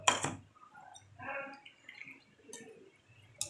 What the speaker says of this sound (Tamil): இப்போ ஒரு டம்ளரில் ஊற்றி வடிகட்டிக்கலாம்